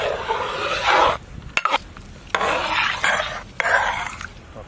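Egg mixture with mushrooms for an omelet is stirred in a pan, giving close scraping, rasping strokes of a utensil against the pan in a few bursts separated by short pauses, with a faint sizzle underneath.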